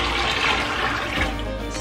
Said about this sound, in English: Now we'll put some cold water in.